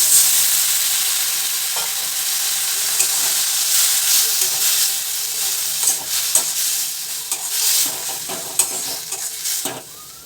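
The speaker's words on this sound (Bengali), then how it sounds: "এইসব মশলাগুলোতে অল্প করে জল দিয়ে ভালো করে সবটা কষিয়ে নিতে হবে।" Spices sizzle and hiss in a pan with a splash of water while being stirred for an egg and potato curry, a loud steady fry broken by scraping spoon strokes, with no talk.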